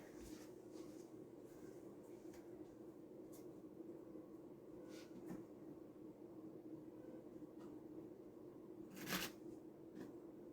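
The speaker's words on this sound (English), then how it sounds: "Alrighty, now we just have to shuffle this" Pokemon trading cards being shuffled by hand at a tabletop game, a soft steady riffling and sliding that runs throughout at low level, with a brief louder flick near the end.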